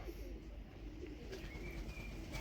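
Soft, low pigeon coos murmur continuously in the background, with faint chirps and a steady outdoor hum.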